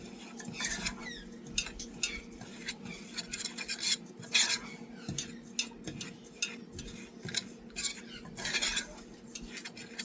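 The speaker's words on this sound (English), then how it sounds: "We have a metal spoon. Mix well." A metal spoon stirs a thick dough mixture in a bowl, giving repeated scraping and clinking strokes in an irregular rhythm, close and fairly loud, with a steady low hum underneath and no talking.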